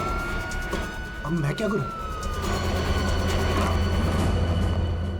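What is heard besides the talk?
police car arriving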